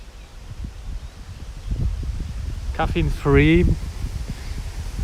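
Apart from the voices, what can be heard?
strong wind in Tokyo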